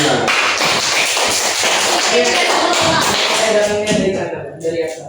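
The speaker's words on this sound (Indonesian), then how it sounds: "tepuk tangan buat kalian semua" Applause from a high school physics classroom, a dense wash of many hands clapping at once, loud and close for about five seconds before thinning out.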